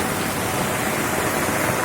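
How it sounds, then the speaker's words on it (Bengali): Heavy downpour of rain, a dense, steady broadband hiss that stays loud and even throughout, with no voices or other sounds. "জোরে বৃষ্টি পড়ছে।"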